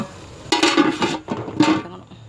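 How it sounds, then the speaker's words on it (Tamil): A lid set onto a pot of simmering chicken gravy, two short metallic clanks and a scrape close by, with quiet cooking noise between. "ஸோ இப்படி மூடி போட்டு மூடி வச்சிங்கன்னா சீக்கிரமாக குக் ஆகும்"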